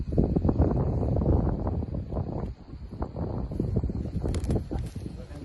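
Gusty wind buffets an open field in South Korea during kite flying, rough and rumbling against the microphone with uneven surges, while a voice talks faintly underneath.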